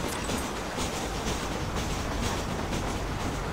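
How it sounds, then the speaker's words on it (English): A train rolls past in the Red Dead Redemption video game, a steady broadband rumble with rhythmic clickety-clack from wheels on rail, loud and close throughout. "So what happens with this train if I just stand right here?"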